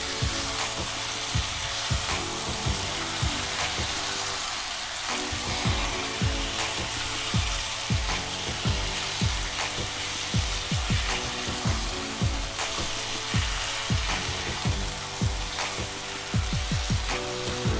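Jumbo king prawns in Malwani masala frying in a pan on a medium flame, a dense continuous sizzle with crackling pops throughout, close and steady with no talking.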